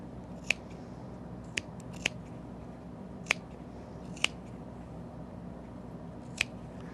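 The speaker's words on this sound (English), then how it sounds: "you're just going to clip it about 1/4 inch" Six sharp, quiet snips of hinged scissors clipping T-shirt fabric seams for a rag quilt at irregular intervals against a soft steady background hum.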